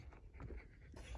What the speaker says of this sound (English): Wow, this is a big dog.